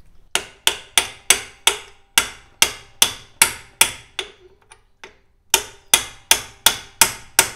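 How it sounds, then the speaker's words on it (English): Sharp metallic hammer blows strike a part on an MG TC front axle, about eighteen close, loud, evenly spaced hits with a brief pause midway. "So now we just hammer this right on out of here."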